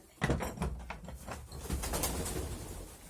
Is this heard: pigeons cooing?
yes